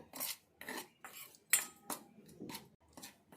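A spoon clinks and scrapes against a bowl while wheat flour uttapam batter is mixed with a spoonful of upma semolina, in a run of repeated close strokes with short pauses between them.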